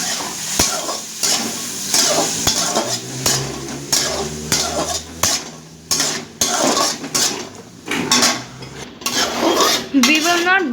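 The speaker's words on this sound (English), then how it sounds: "Next, adding the raisins and the chopped apples." Raisins and chopped apples tipped into a pan of frying cashews and stirred, with repeated clanks and scrapes of a spoon on the metal pan over a soft, steady sizzle.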